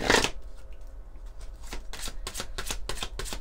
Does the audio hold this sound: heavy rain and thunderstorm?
no